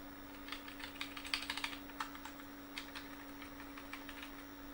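Rapid clicky computer keyboard typing in bursts, fairly close and alone, as keys are pressed to play a DOS game on a PCjr.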